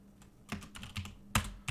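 Quick bursts of typing on a computer keyboard, a handful of close, sharp key clicks in an irregular rhythm, the loudest strike near the end.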